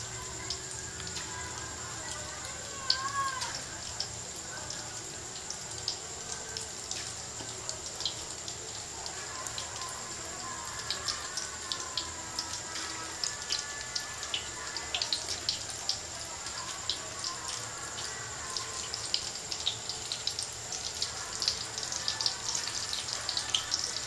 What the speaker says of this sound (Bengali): আরও একবার দেবো আমি পকোড়াগুলো।